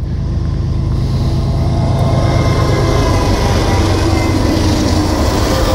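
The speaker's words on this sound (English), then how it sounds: "Oh, it's a coal train." A long coal train of loaded coal cars rolls steadily past close by, a loud continuous rumble of wheels and cars with faint rhythmic clatter throughout.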